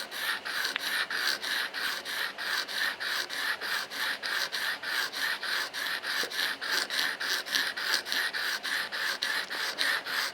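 A chisel for Japanese woodblock printmaking is sharpened with steady back-and-forth strokes on a stone, each rasping rub repeating at an even rhythm, close and moderately quiet, with no talking.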